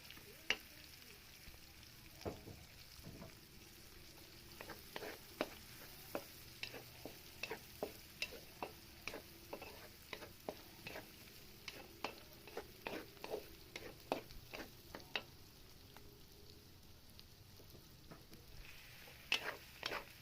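Onions frying in a pan for tofu and pork sisig, a faint steady sizzle with frequent light scraping and stirring taps throughout, quiet and close with no talk.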